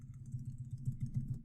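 Fingers type on a computer keyboard in quick, fairly even keystrokes that tap along softly and close by, with no talking.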